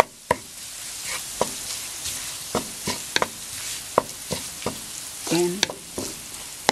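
Tobanjan chili bean sauce stir-fried in a hot pan for mapo doufu, a steady sizzle broken by sharp scrapes and clacks of a utensil against the pan, with a brief spoken word.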